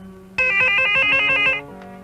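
Telephone ringing nearby, one bright electronic ringtone burst of about a second and a half that starts abruptly and then cuts off, followed by faint residual tone.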